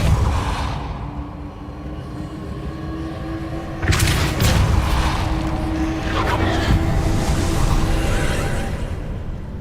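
Spell effects from the Hogwarts Legacy video game as Levioso and Depulso are cast, a dense rush of magical whooshes with a sharp burst partway through, loud and continuous over a rumbling game backdrop.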